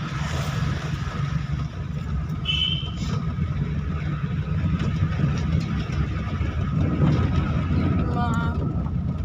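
A car cruising in fourth gear on the road near Ichapur, its steady mid-pitched engine drone building gently as it picks up speed, with wind rumble and people talking over it.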